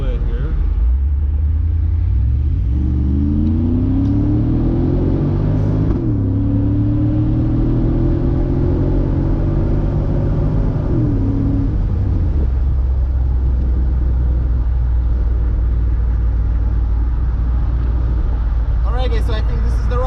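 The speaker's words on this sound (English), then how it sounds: "we're going to do a little pull here so you can see how well it moves" A Mercedes-Benz 500SL R129 pulls hard onto a freeway, its engine note climbing through a long rising rev before easing off into steady road rumble, with someone talking over it.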